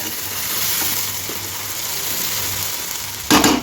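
Hot oil fries steadily in a pan during preparation of a village-style jigri dish, a continuous bright sizzle that holds level throughout before a brief louder burst near the end.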